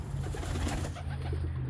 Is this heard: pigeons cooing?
yes